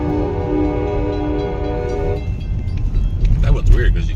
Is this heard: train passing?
yes